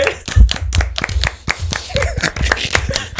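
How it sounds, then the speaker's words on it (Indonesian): A brief round of hand clapping, with a dozen or so sharp, close claps in a quick, slightly uneven rhythm and no voices over them. "Tepuk tangan dulu."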